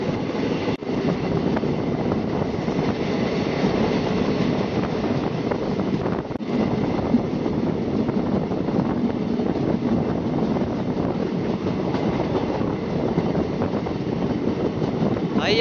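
A local passenger train running through snow between Srinagar and Banihal in Kashmir, heard as a steady, continuous rumble of wheels and carriage noise with wind buffeting the microphone throughout.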